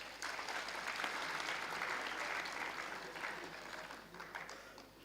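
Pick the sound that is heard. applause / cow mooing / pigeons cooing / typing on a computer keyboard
applause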